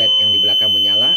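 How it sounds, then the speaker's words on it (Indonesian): A buzzer triggered by a D80NK infrared sensor sounds a steady high electronic tone throughout, while a person talks over it. "Buzzernya juga berbunyi."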